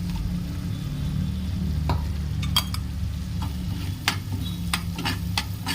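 Ground spice powder being stirred into fried garlic in a pan, a steady hiss of frying underneath with scattered scrapes and taps of the spoon, close and continuous without any voice.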